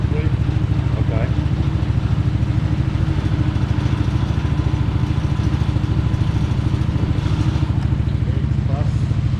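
A motorcycle's front brake is run on a brake testing machine, producing a loud, steady mechanical drone with rapid rhythmic clatter and rollers churning throughout, and faint voices in the background.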